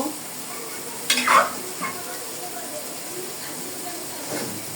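Boiled taro pieces sautéing in a pan for a fish curry, with a brief burst of stirring and sizzle near the start, then a low steady hiss; faint speech-like sounds in the background.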